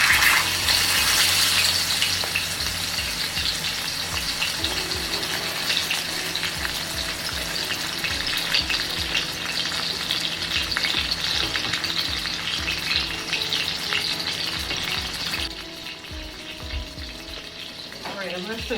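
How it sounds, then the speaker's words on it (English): Pork chops fry in hot, smoking beef tallow, giving a loud, continuous sizzle and crackle that holds steady for the whole stretch, with a brief shift in texture near the end. "this is how the pork chops look like, frying up in tallow"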